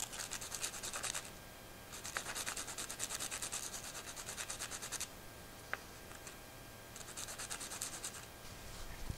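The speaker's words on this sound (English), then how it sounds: "So just kind of scuff them up, giving you nice scratches around the circumference" Plastic pen tubes are scuffed to roughen them for glue, giving bursts of dry scratchy rubbing in three main bouts with short pauses and a sharp tick between, close and fairly quiet.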